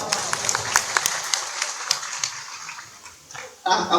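A crowd at a religious gathering claps in a dense burst of hand claps, steady and fairly loud for several seconds before thinning out, then a short louder surge at the end.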